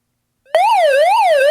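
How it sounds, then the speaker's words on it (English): A loud electronic siren from an iRonsnow Condor 1 emergency crank radio wails up and down, cycling smoothly after a sudden start, close and continuous with no voices. "So it gives you that siren"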